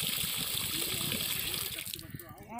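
Tap water gushes steadily at a roadside spot near shops on a hot day, loud and close at first, then tapering off while voices talk over it.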